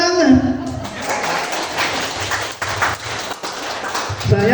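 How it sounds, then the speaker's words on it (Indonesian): Applause from an audience at a gathering at a Catholic parish breaks out at once and fills the whole stretch as a dense, steady wash of clapping, with a voice briefly audible near the start. "Bersejarah, tepuk tangan."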